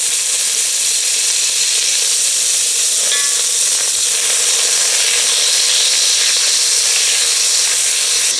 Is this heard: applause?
no